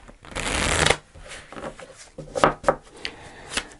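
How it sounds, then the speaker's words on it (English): A deck of tarot cards is shuffled close up: a dense riffle burst for about a second, followed by softer card slides and taps. "Just do one more shuffle."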